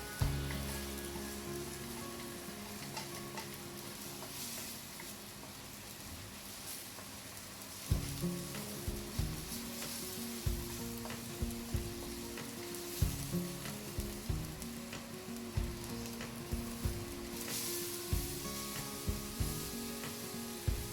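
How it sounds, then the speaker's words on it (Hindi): Ginger garlic paste sizzling in a hot pan, a constant frying hiss close up, joined after a pause by repeated scraping strokes of a spoon stirring it in a steady rhythm. "हम जिंजर गार्लिक पेस्ट को अच्छे से पकाएंगे।"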